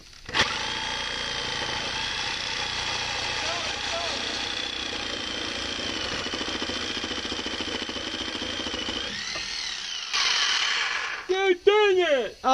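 A Sawzall reciprocating saw cuts off the muffler of a Fairmont drift car, buzzing loud and steady for about nine seconds before cutting out, followed by a few short bursts and voices.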